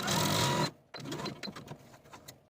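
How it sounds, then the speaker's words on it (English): A sewing machine runs a long gathering stitch through velvet bodice pieces, a loud steady whir for under a second before stopping, followed by soft close handling and rustling of the fabric. "We're going to take these pieces to the sewing machine and using the longest stitch on your machine"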